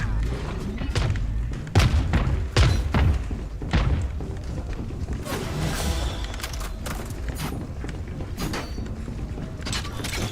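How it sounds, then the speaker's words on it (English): A missile barrage in Valorant fires off a rapid series of sharp thuds and heavy impacts, loud at first, then settling into scattered clanks and rumble. "All missiles away."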